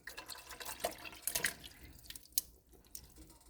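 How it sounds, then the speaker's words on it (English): Chicken broth pours into a pot as a soft, continuous liquid splash and gurgle with a few faint clinks, heard close but quiet, with no talking. "I went ahead and poured 2 cups of chicken broth."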